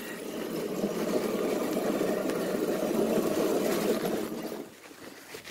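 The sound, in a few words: engine of a newly built ride starting and idling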